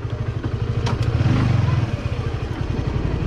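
A motorcycle taxi engine putters steadily nearby in Bangkok, Thailand, with a rhythmic low chug, rising slightly as it passes, with faint clatter around it.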